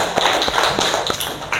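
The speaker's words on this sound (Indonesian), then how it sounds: "Tepuk tangan untuk Marvin." Classmates in a school classroom clapping for a pupil named Marvin, a short burst of sharp, close hand claps in an uneven rhythm with no voices.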